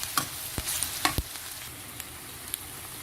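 Garlic pickle with chili powder is stirred in a hot pan, a soft sizzle broken by several sharp scraping strokes of a spoon, close up and fairly quiet.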